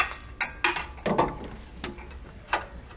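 Ratchet clicks in short bursts while loosening the 18 mm upper and lower sway bar link bolts on a 2015 Jeep Wrangler JKU during a suspension lift install, several close, sharp clicking runs separated by brief pauses.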